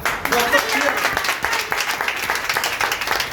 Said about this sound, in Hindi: उस बिजनेस के लिए जोरदार तालियां।